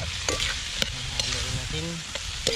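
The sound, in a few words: stirring banana heart into dinuguan (pork blood stew) in pot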